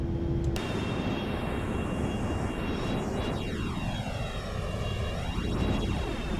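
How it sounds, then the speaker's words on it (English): Embraer KC-390 military transport in Flight Simulator X rolling down the runway for takeoff, a steady loud jet engine roar with a rising whine and shifting tones, no talking. "I wonder how fast this aircraft has to be going in order to... Oh, hello. In order to take off."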